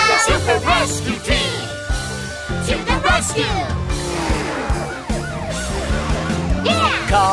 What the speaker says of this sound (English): Police car! Call when a fire breaks out. Fire truck! Call for the hospital. Ambulance!